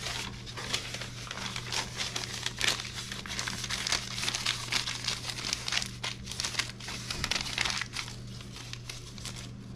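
Paper for spray art is ripped and crumpled by hand, making dense, continuous crinkling and tearing close up over about ten seconds, with a faint steady hum beneath.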